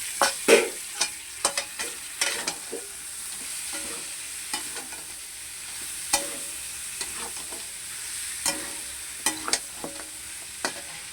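Fried garlic, green chilli and coriander paste cooking in a pan, a soft continuous sizzle with occasional scraping stirs and clacks of a spoon, close by.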